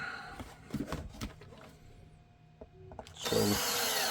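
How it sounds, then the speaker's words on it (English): A power drill bores into a dual-layer HK USP grip panel. Scattered handling knocks and scrapes come first, then a quiet pause, and the drill whirs up loudly near the end. "if you let the drill bit do its thing, nothing's really going to happen."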